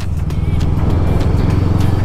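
FKM Expres 500 Racer motorcycle engine running steadily, a loud continuous low rumble with rapid even pulsing throughout, close to the microphone with no talk over it.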